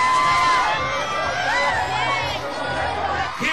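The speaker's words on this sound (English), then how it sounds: "5, 4, 3, and applause." A TV studio audience cheers and whoops loudly at the start of a 2003 US promotional television appearance by Dido, a dense, steady wall of crowd noise with shouts and high excited voices rising through it.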